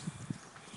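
A horse cantering on a lunge line gives soft, rhythmic hoof thuds, a few muffled beats close by against quiet background.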